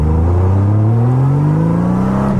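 A 1989 Honda Goldwing motorcycle engine revs up close and loud, its pitch climbing smoothly for about two seconds before dropping off sharply.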